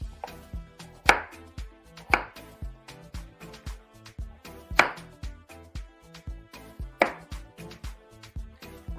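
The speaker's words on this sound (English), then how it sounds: "I'm peeling the taro root now." Taro root being worked with a knife on a cutting board, a close, regular series of crisp thuds and cuts with louder strokes about every two seconds.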